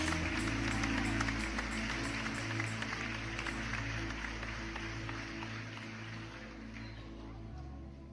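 A church congregation applauding during a lively worship service, sustained clapping spread across the room while loud music with a deep, steady bass plays underneath throughout.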